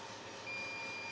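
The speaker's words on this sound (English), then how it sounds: "there's the dead man's alarm" A dead man's alarm on an Aillio Bullet coffee roaster sounds as a steady electronic beeping tone that gets louder partway through, against a constant roaster hum, with no talk.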